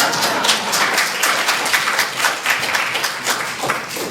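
An audience at a political meeting on Palestine claps in a sustained, even roar of applause, moderately loud and steady throughout.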